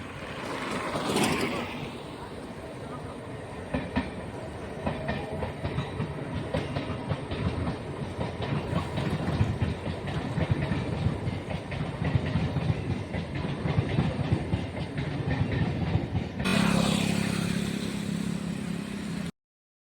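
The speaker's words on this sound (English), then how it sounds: "Oh, train." A train passes on railway tracks near a forest area, a steady rumbling roll with rhythmic clickety-clack of wheels that builds and holds for most of the clip before cutting off sharply near the end.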